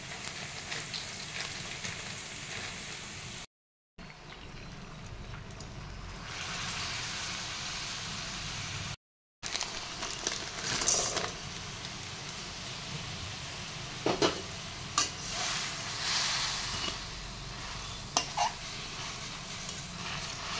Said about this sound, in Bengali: এখানে যে পেঁয়াজ ভাজতে বসে দিয়েছি